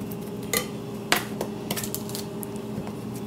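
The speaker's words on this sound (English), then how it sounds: "the first layer will be to actually place the eggplant in the clay pot" Eggplant slices laid into a clay pot for moussaka, a few light clinks and taps against the pot over a quiet steady background hum, close and soft, no voices.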